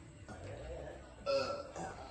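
In a classroom, a voice imitates a burp with a short croaky belch, then a louder, rougher second one, close to the microphone.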